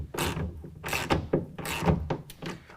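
A 1/2-inch ratchet tightens a rail clamp on a TruXedo Pro X15 tonneau cover on a 2019 Ford Ranger, giving several short bursts of sharp, clicking ratchet strokes up close.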